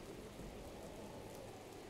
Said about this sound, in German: Ah, es regnet wieder